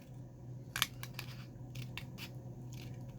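Scissors snip through folded card paper in several quiet, separate cuts, a sharp one early and then lighter crisp clips spaced out over a faint steady background hum.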